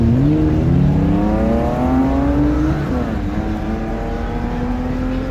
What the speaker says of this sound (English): Let's do this fucking drag race.